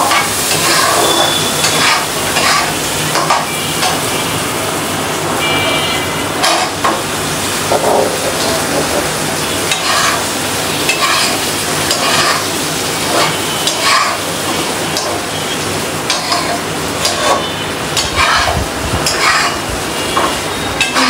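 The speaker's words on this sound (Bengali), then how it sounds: "ভালো করে বেগুন দিয়ে কষাবো" Eggplant stir-fried with meat in a pan makes a loud, dense, continuous sizzle and crackle, with frequent scraping and stirring bursts close up from start to finish.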